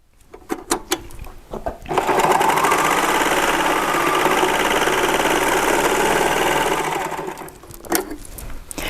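A serger runs continuously for about five seconds, stitching a seam through bow fabric with a steady mechanical whir, preceded and followed by light handling clicks and taps.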